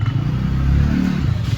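A TVS Ntorq 150cc scooter engine hums low and steady up close while being ridden, with a slight rise in pitch partway through and no talking.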